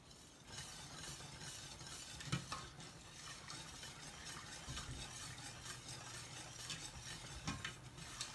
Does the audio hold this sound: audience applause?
no